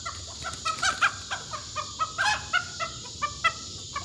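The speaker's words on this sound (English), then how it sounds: "a rooster on the loose" A loose rooster and farm fowl cluck and crow in a rapid, uneven series of loud nearby calls over a low, steady background rumble.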